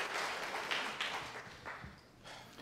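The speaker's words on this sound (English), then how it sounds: "Let's give him one more round of applause for coming all the way out." Indoor seminar audience applauding, a dense spread of claps at moderate distance that thins slightly toward the end.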